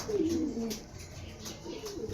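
Young pigeons, about 25 days old, coo softly in short low warbling calls, several in quick succession, close by with no talking.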